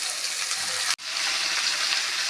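Vegetables sauté in oil for a Kerala-style aviyal, giving a steady close sizzle that broke off for an instant and then resumed.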